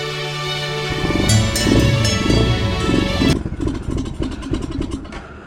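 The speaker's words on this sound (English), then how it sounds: "I'm gonna go out and test ride with the new Nibbi PE24 Carb, PE24." RPS Racer 140 pit bike engine fitted with a Nibbi PE24 carburetor, running with the choke on, revving loudly up close then dropping to a rough, throbbing idle.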